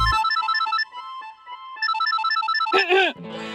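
A mobile phone ringtone plays loud and close in a Hindi TV drama scene, a repeating electronic melody in two phrases, followed by a brief swooping sound effect and rising noise.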